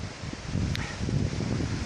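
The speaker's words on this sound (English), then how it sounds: "it's just very, very, very windy" Low rumbling wind buffets steadily while wild camping in Scotland, with a gusty rustle and a brief faint higher sound partway through.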